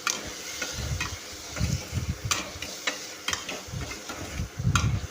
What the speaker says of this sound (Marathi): आता छान परतून घ्यायचं तीन ते चार मिनिट छान शिजू द्यायचं